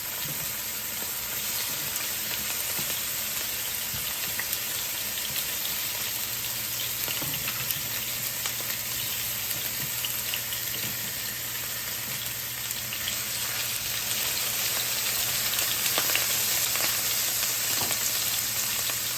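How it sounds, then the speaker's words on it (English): Chicken for shawarma sizzles and crackles steadily in a hot pan, a constant hiss with occasional pops and faint stirring, no talking. "If you don't hear a sizzle, it's not hot enough."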